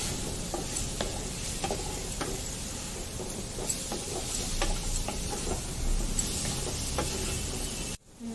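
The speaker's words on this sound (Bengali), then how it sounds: "বেগুন দেবো দিয়ে একটু নাড়াচাড়া করবো" Chopped eggplant frying in a pan, a continuous sizzle broken by regular clacks of a spatula stirring and turning the pieces, close and even throughout, no talking.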